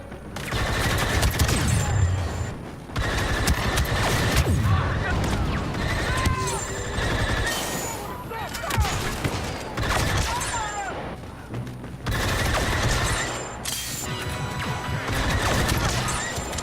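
A TL-50 heavy blaster from Star Wars Battlefront 2 fires in long sustained bursts, loud rapid energy bolts crackling with brief pauses between volleys, amid battle noise and occasional voices.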